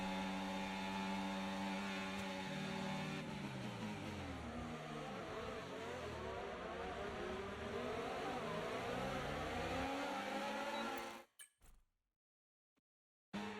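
An F1 24 race car engine held at full throttle in the video game, a loud sustained high-pitched whine with shifting revs for about eleven seconds before cutting abruptly to near silence.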